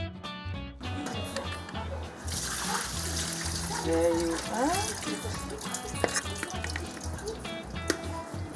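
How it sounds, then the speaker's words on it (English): Marinated fish rinsed under running water in a sink, a steady splashing tap flow with gurgles and drips after a brief quiet start, close by. "it is then rinsed in water."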